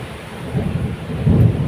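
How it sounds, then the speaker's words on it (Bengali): A Kalbaishakhi thunderstorm with heavy rain on an island, low thunder rumbling and swelling over a steady wash of rain, loud and close, building toward the end. "প্রচুর ঝড় বৃষ্টি হচ্ছে আমাদের"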